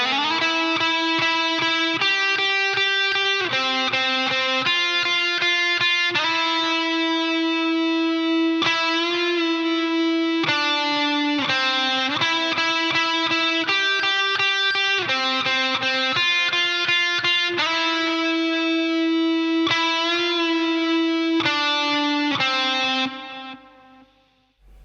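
An electric guitar with effects plays the slide riff from a song, a repeating melodic phrase of sustained, gliding notes, loud and unaccompanied, fading out at the end.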